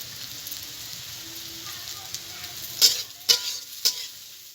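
Vegetables fry in a pan with cashews and raisins, a low steady sizzle broken near the end by three sharp scraping stirs, close and moderately loud.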